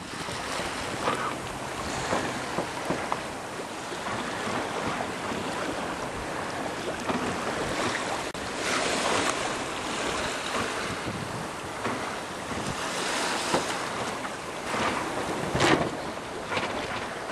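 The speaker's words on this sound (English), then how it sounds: "We're sailing wing on wing, which, because the wind's right behind us, makes it for a relatively smooth ride." A sailboat running downwind wing on wing at about 5 knots over waves, with steady wind and water rush, hull swash and wind buffeting the microphone throughout, fairly loud and continuous with no talk.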